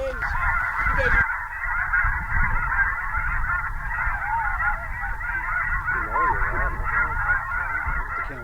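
Canada geese honk in a continuous, loud chorus, the calls layered and overlapping throughout, with a low rumble of background noise beneath and people talking faintly at times.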